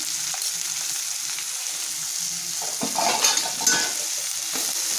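Onions frying in oil with green chillies and turmeric, a continuous hissing sizzle with a few louder spatters and stirring scrapes partway through, close up and without voices.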